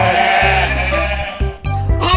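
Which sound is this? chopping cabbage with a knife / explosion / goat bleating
goat bleating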